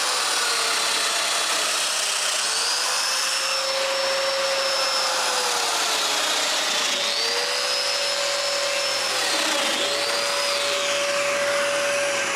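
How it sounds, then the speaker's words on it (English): A power drill bores mortises into wooden bookcase pieces in a workshop, a steady loud whine holding a constant pitch with brief dips as the bit plunges and withdraws, running alone without talk. "it's time to mark where to drill the mortises and drill them"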